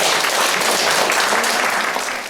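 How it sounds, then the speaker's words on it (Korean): A lecture audience applauds to welcome a professor to the stage, dense, loud, continuous clapping from many people that tapers slightly at the end. "뜨거운 박수로 우리 박맹수 선생님 모시겠습니다"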